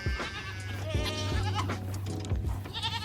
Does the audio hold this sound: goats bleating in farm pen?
yes